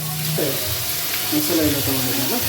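Cinnamon, cloves, fennel and cardamom fry with onion in a pan for chicken chops, a steady close sizzle with scraping stirs, and a voice talks faintly over it.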